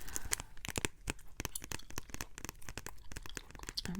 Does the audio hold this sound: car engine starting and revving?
no